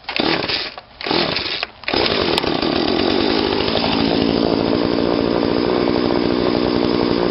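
An MF 35x chainsaw idles and runs while warming up on a firewood logging job, loud and close, with two brief dips early before holding a steady, continuous engine drone.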